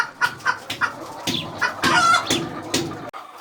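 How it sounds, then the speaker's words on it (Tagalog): Chickens cluck repeatedly on a farm in short, close bursts, several birds overlapping in an uneven, busy rhythm before falling quiet. "Chickens!"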